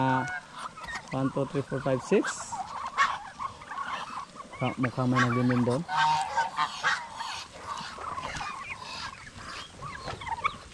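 A flock of farm geese honks loudly and close by in repeated bursts, with several birds calling over one another, while someone talks and counts between the calls.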